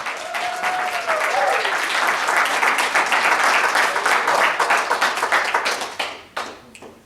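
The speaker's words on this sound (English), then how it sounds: "Round of applause." Audience applause at a poetry slam: dense, sustained clapping from a crowd for several seconds, with a brief voice early on, then thinning out into scattered claps at the end.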